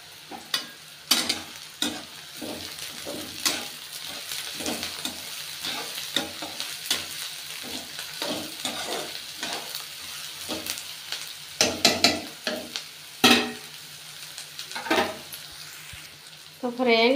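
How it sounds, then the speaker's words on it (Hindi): Green chillies frying in a pan while being stirred: a continuous sizzle punctuated by regular sharp scraping strokes of a spatula, close and fairly loud, with a couple of heavier clanks late on and no talk. "हम इसमें हरा मिर्ची डाल रहे हैं।"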